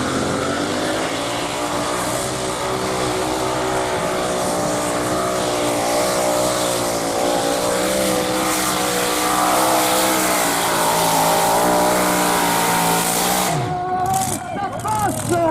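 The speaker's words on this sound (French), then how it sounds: "Le tracteur pooling." A loud, sustained tractor engine roar straining under heavy load at a tractor pulling competition, its pitch wavering and climbing before cutting off sharply near the end.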